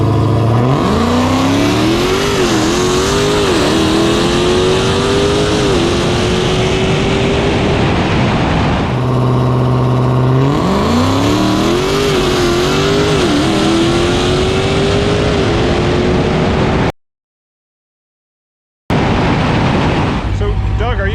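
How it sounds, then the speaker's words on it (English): A drag race car makes a quarter-mile test pass, its loud engine rising in pitch through repeated gear changes, a brief lull, then pulling hard again before cutting out, with another burst at the end. "he's going to make a test pass, sort it out, and if everything's going well, we'll make a run."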